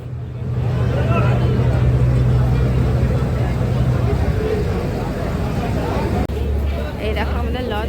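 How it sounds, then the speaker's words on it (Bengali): A ferry launch pulls in at a river ghat near Howrah Bridge, its engine a steady low rumble under loud crowd chatter and someone talking, with a brief knock near the end. "এই দেখো আমাদের লঞ্চ চলে এলো,"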